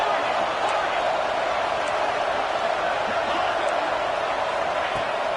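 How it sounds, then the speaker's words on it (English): A roaring stadium crowd at a college football game in an NCAA video game, a broad steady wall of cheering noise held at a constant level throughout. "It's early, but this crowd is fired up. Listen to this noise here."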